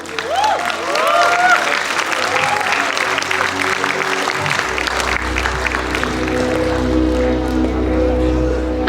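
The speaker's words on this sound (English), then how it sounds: "Let's show them our love and encouragement with a huge round of applause." Applause from the audience at a school performance event, a dense, steady wash of clapping filling the room, with cheering voices and music-like tones mixed in over it.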